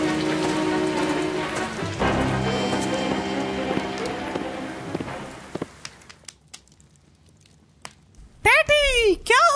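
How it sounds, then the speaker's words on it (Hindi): Steady heavy rain with thunder-like rumbles, fading toward quieter drips, then sudden sharp cracks and swooping tones near the end. "बाहर तेज बारिश हो रही है और तूफान भी आ गया"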